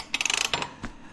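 A Velocette motorcycle engine turned over by hand, one cylinder lacking compression as it leaks back through the inlet valve: a quick run of close mechanical clicks and ratchet-like ticks, then a couple of softer puffs, near and alone.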